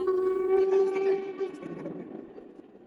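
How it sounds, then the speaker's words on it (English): The Jacobite steam train in the Scottish Highlands sounds a loud, sustained whistle as it approaches, one long steady tone that fades toward the end with faint rumbling underneath. "And here it is, the mighty Jacobite steam train."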